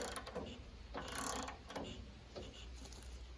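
A clamp being tightened on a sawmill holding white oak logs, with quiet ratcheting and metallic mechanism clicks in several short bursts, close but faint.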